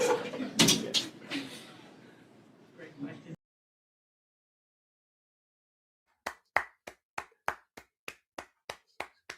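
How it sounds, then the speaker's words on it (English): A person claps their hands about a dozen times in a quick, even rhythm at close range. The claps follow a stretch of talking at a basketball post-game show and a few seconds of silence. "Why are you clapping your hands?"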